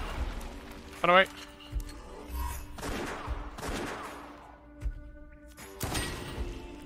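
Scattered gunshots from the game West of Dead, a few brief cracks and thumps spaced apart under someone talking, moderately loud amid game noise.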